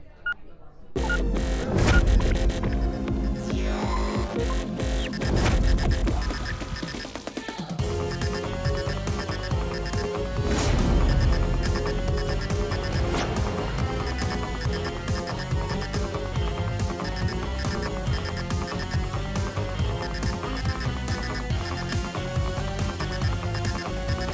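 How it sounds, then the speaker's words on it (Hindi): A beeping alarm in a TV drama scene repeats rapid, steady electronic beeps throughout, layered over dense background music and sound effects. "मीरा बिल्कुल सही कह रही है, ये बॉम्ब के बीप की आवाज नहीं है, ये कुछ और ही चक्कर है।"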